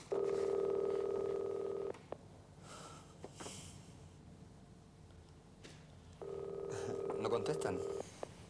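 A telephone is being dialed: a steady tone plays for about two seconds, then a few faint clicks and handling sounds follow, and the tone returns near the end, all at moderate level in a quiet room.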